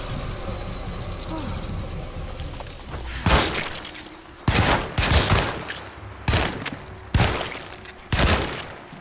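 Repeated bursts of video game gunfire, several sharp volleys spaced about a second apart and loud in the mix, with game background sounds between them.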